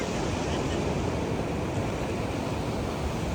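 Sea waves wash onto a Moroccan beach near a cabana, a dense, steady roar of surf with wind noise, loud and continuous with no distinct breaks.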